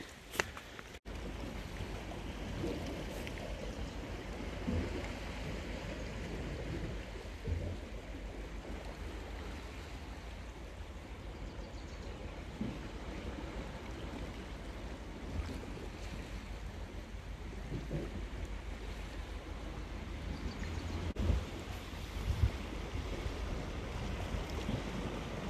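Ocean surf on a rocky stretch of the north Olympic coast, a steady loud wash of waves with wind buffeting the microphone and a few louder breaking surges, no voices.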